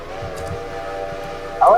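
A locomotive whistle in the train video game Railroader sounds as one short, loud blast at the very end, after a stretch of quieter background noise and talk.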